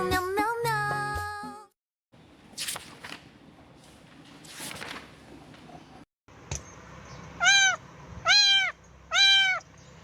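A cat meows three times in a row, each a clear rising-falling cry, after earlier shorter mewing sounds and a burst of tonal music at the start.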